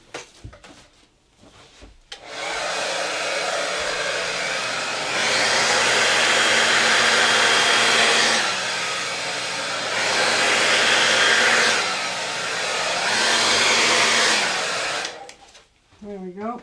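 A blower pushes acrylic paint across a Dutch pour canvas, producing a loud, steady whooshing roar that runs for about thirteen seconds, swelling and easing in waves before cutting off.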